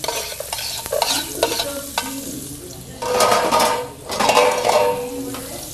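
Onions stirred and frying in a pan for barley tomato pilaf, a steady sizzle broken by clattering spoon-on-pan scrapes and stirring bursts, close and fairly loud with no talk.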